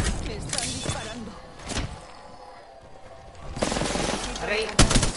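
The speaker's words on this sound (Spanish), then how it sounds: "Me están disparando." Video game gunfire in a Spanish-language team shooter, with sharp broadband bursts of shots near the start, around the middle and in a cluster toward the end, heard under excited talk.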